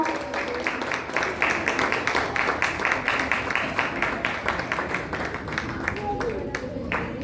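Applause from an audience at a Junior Arya Samaj kids programme in Bangalore, a steady run of many hands clapping at moderate distance for several seconds, with talking over it.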